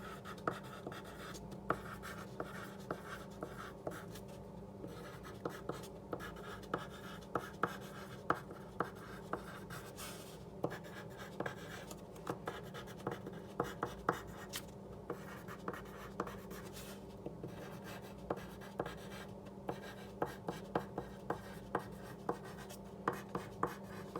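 Pen or pencil writing a message on paper, a soft continuous scratching with small taps and strokes, close and faint, alone without talk.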